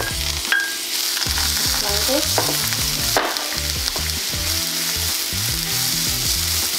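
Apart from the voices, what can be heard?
carrots frying in vegetable oil for pad thai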